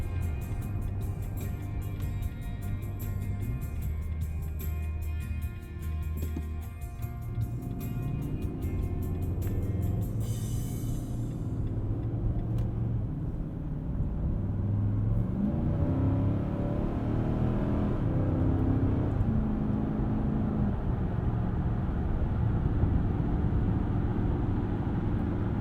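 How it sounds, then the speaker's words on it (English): A 2020 Nissan Titan pickup cruises on the highway at 75 mph, its cabin filled with a steady low engine drone and road rumble, plus a faint high whine that fades early on. "you can hear what the truck sounds like at 75"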